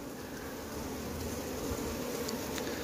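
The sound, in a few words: honeybees buzzing on a hive frame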